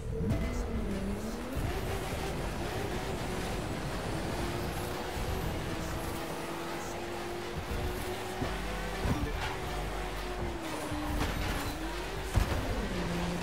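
Car racing in The Crew 2 video game, a steady engine drone with rising and falling pitch as the car accelerates and shifts, continuous and loud with no talk.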